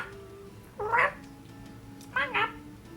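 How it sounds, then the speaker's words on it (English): A pet cat meows twice near a microphone, a single drawn-out meow followed about a second later by a quick double meow, over a faint steady background hum. "You can kind of hear my cat"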